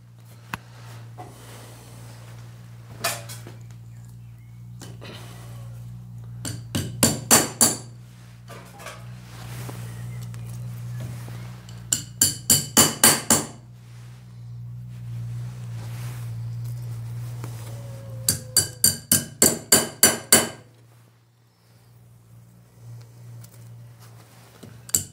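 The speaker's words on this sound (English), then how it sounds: "yes, it is an adjustable wrench, but it's also a hammer" Adjustable wrench used as a hammer to drive inserts into a barn wall in an old German farmhouse, heard as bursts of rapid metallic taps in three separate runs over a steady low hum.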